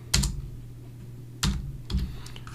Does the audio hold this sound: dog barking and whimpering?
no